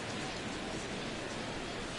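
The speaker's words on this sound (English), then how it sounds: "the conditions aren't ideal with the rain coming down" Steady rain pouring down during a baseball game, a constant soft hiss of drops with no other distinct sounds.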